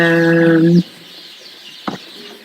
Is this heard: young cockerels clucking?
yes